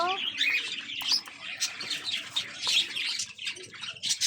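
Budgerigar chicks chirp in a nest box, a busy stream of thin high cheeps and twitters close by, with some wing flutter mixed in.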